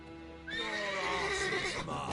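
A horse neighs loudly in The Witcher 3 video game, one long whinny that rises sharply and then trails off over about a second and a half, alone and close.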